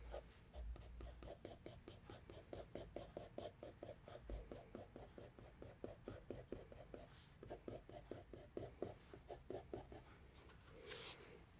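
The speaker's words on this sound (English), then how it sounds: "throw all the pencils just onto the paper." Graphite pencil shading on paper for a cone drawing, a long run of quick rhythmic scratchy strokes, close and fairly quiet, steady back-and-forth hatching with a brief pause near the end.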